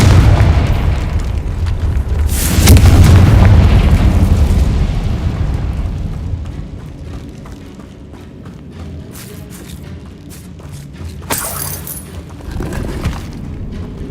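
Confringo blasting spell detonating in the Hogwarts Legacy video game: a heavy booming explosion near the start swells loud then decays into rumbling, followed by a sharp crackling burst later, with no speech over it.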